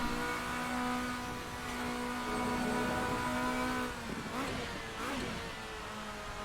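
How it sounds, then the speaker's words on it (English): A racing car from the RSS GTN pack in Assetto Corsa holds a steady, loud engine drone, then downshifts with a quick cluster of throttle blips and falling revs before settling back into a lower, steady tone. "Good downshift sounds"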